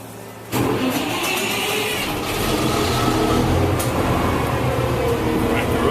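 A bus engine cranks and catches with a sudden onset, then settles into a steady, loud rumbling idle that swells slightly as it runs, heard from inside the vehicle.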